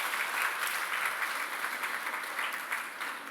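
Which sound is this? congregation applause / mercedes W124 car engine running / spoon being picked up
congregation applause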